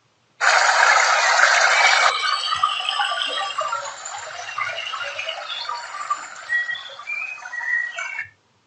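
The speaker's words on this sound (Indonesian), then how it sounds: "Di sini saya mau buat suara gemericik air." Trickling, gurgling water, made as a sample for training a sound classifier. It starts abruptly with a louder burst in the first two seconds, then continues as a steady bubbling trickle, close and fairly loud, with no talking.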